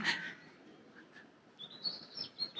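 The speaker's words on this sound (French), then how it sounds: "J'entends tous les oiseaux là et tout." Spring birdsong outdoors: faint, thin chirps and a high whistled phrase come from a distance against quiet background noise.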